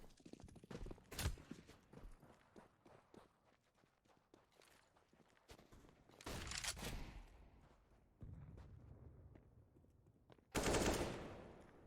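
Gunfire in Counter-Strike: Global Offensive during a competitive esports match, faint, scattered shots and short automatic bursts with footsteps in between, and a louder burst near the end.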